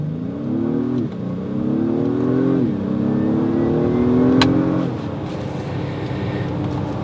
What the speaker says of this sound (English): Stop in the middle of the road really quickly. Give it full gas.